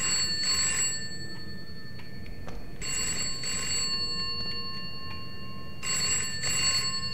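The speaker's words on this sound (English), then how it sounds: "A phone?" A telephone ringing in the horror video game Bokkie, three bursts of an old-style electric bell ring spaced a couple of seconds apart over a low ambient hum.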